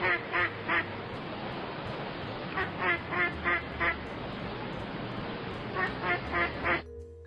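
A duck quacks in repeated short bursts of three or four calls, clear and close, with quiet pauses between the groups.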